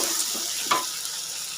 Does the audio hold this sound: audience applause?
no